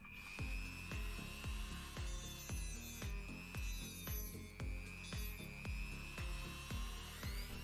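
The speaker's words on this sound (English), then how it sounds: "Cut off the protruding part of the lid." Rapid back-and-forth hand sawing through the protruding plastic part of a water meter lid, strokes repeating about twice a second in a steady rhythm, close and fairly loud with no talking.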